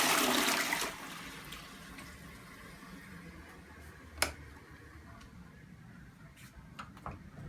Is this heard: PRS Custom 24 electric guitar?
no